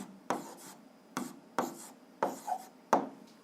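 Chalk or marker strokes on a board while writing out a pressure calculation in a physics lesson: five short scratchy bursts of writing with brief pauses between, close and fairly clear, with no talking.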